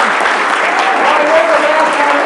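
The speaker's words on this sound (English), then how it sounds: "let's give our superintendent a round of applause" Audience applause for a school district superintendent at a June business meeting, a dense steady wash of many hands clapping, loud and continuous throughout with no break.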